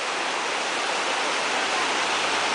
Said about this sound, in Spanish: las aguas del Océano Índico en toda su hermosa dimensión